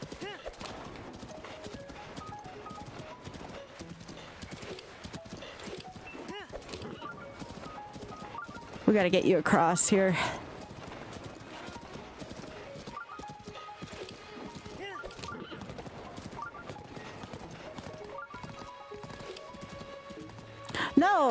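Hooves clip-clop steadily as a horse is ridden in Breath of the Wild, with a louder whinny midway, while a player talks over the game audio.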